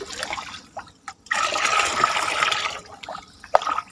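Liquid plant fertilizer is stirred in a container, giving a close sloshing, swirling water sound that builds for about two seconds, with brief splashes and drips before and after.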